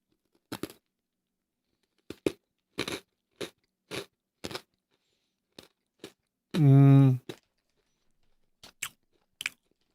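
Sakura-flavored snack crunched and chewed close to the mic in sharp separate bites spread across the stretch, with one longer drawn-out vocal sound in the middle.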